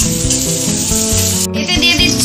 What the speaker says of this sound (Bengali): পেঁয়াজগুলো একটু ভাজা ভাজা করে নেব।